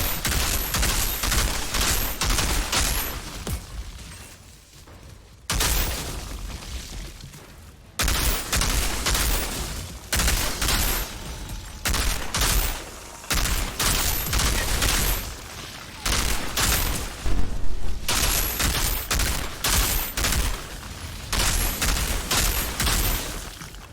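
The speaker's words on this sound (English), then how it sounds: "Why did I just shoot that guy 12 times and nothing happened?" Rapid, sustained gunfire from the video game Outriders: close, loud bursts of shots that run almost continuously, with a few short pauses between volleys.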